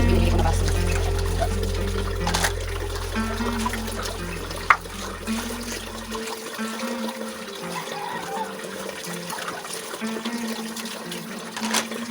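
Water runs steadily into a kitchen sink while dishes are washed, with a continuous rushing flow, a low hum that stops midway and a few faint clinks.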